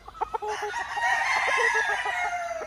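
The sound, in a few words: green-legged lemon chicken stag crowing at game farm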